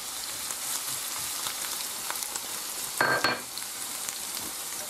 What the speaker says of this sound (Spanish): Una vez que está caliente echamos la cebolla. Y el ajo. Y lo tenemos que freír bien.